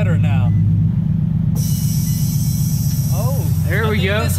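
An auction-bought drift car's engine runs at a steady, loud idle, a low throbbing rumble that carries through the whole stretch while people talk over it.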